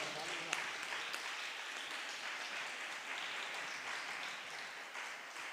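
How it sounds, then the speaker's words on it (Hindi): An audience at a mushaira poetry gathering at M A H Inter College, Gazipur, applauds a poet with steady, even clapping that sounds faint and distant, continuous throughout. "बादशाह राही के लिए भी एक बार तालियाँ आनी चाहिए।"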